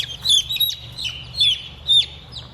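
Young Barnevelder chicks hatched out and kept in a large brooder give a few bright, repeated peeping calls, close and fairly loud, spaced about half a second apart over a low steady hum.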